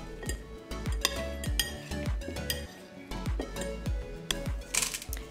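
A salad of onions and cucumbers dressed with balsamic vinegar is tossed in a bowl, with sharp clinks and knocks of utensils against the dish coming in quick, uneven bursts, close and clear.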